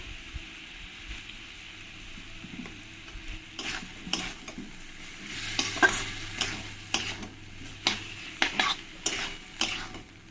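Taro roots frying with spices, salt and turmeric, a soft sizzle under repeated scraping and clanking of a spoon stirring against the pan, in irregular bursts that grow busier toward the end.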